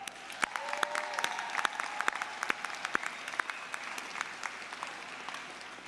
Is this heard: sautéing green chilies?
no